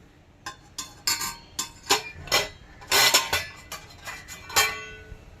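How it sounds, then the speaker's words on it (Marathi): A pressure cooker lid being opened after steaming a chana dal and rice dhokla, with a series of sharp metallic clanks and clinks at uneven intervals, close and fairly loud. "तर आपण झाकण काढूया।"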